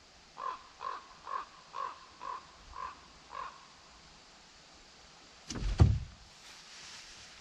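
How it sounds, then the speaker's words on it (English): A crow caws seven times in a steady, evenly spaced series at moderate distance outdoors on a Canadian fishing trip, followed by a brief louder knock or thump near the end. "That bird's laughing at me."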